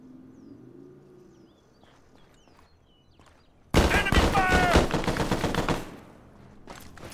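Enemy gunfire erupts in Arma 3 on Tanoa, a loud, sustained burst of rapid shots that lasts about two seconds after a quiet stretch of faint ambience and distant birds, with a player's voice calling out over it.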